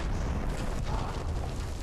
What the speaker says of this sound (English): There's a bunch of explosions going on.